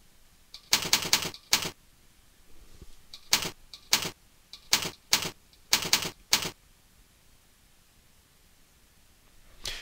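Typing on a computer keyboard to enter a name: short bursts of sharp clicking keystrokes in clusters, fairly close, with quiet pauses between bursts and no talking.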